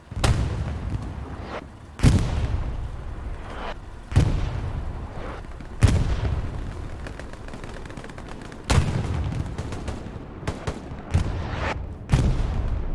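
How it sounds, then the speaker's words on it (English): A bombing run in a multiplayer World War II shooter match brings loud, close explosions and bursts of gunfire, heavy booms landing every couple of seconds amid scattered shots. "Seeing a bombing run coming in."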